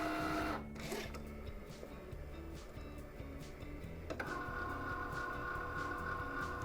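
A Cricut cutting machine runs steadily while making an envelope from card, giving off a continuous mechanical whir with small ticking motor changes and a shift in pitch partway through, close and alone with no talk.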